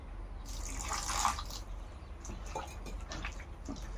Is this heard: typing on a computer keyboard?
no